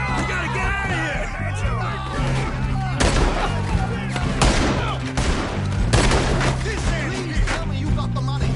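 Gunfire in the video game Red Dead Redemption 2 crackles amid a chaotic shootout, several sharp loud shots punching through ongoing voices and shouting.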